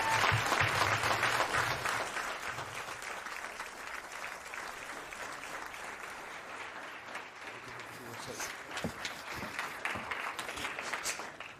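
Sustained audience applause at the BUFTA awards ceremony, a dense wash of clapping that swells at the start, thins slightly midway and picks up again, with some cheering and voices mixed in.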